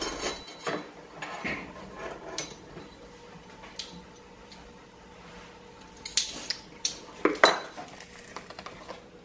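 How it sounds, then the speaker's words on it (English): A utensil clinks and scrapes around a bowl while dry cake ingredients with baking soda are mixed, in scattered light taps that grow into louder, quicker knocks near the end. "Lexi will do the honors of mixing the dry ingredients."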